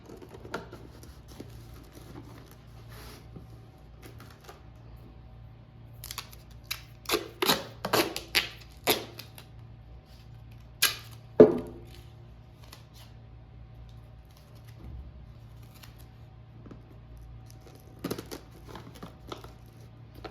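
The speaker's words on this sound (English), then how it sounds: "a ring of duct tape all the way around where we cut our jug open" Duct tape is pulled and pressed around the cut seam of a plastic jug, with sparse, quiet crackling bursts and a few sharp rips clustered in the middle, set against faint low background hum and long near-silent stretches.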